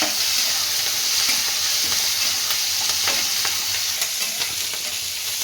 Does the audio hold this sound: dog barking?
no